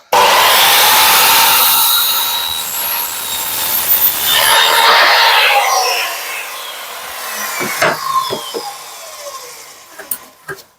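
A power saw bites loudly into wood, a sustained harsh whining cut that eases off, followed by a few knocks and clatters.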